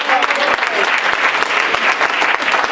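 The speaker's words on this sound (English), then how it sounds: "Give him a round of applause for social justices." Audience applause at an open mic poetry night: a dense, steady burst of clapping from a crowd that holds for a few seconds at full volume, with no talk over it.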